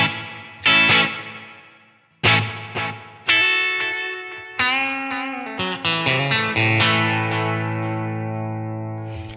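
Electric guitar played through a Line 6 Helix with reverb and delay in the effects loop, a series of picked notes and chords ringing out with long trailing echoes and wash, clean and close with no talk.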